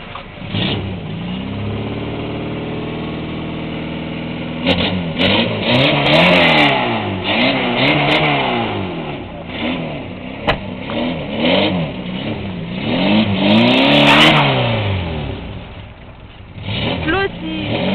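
A Wartburg 1.3 car engine cranks and catches, then revs up and down in repeated rising and falling sweeps, loud and close, settling toward a rough idle near the end, with voices now and then.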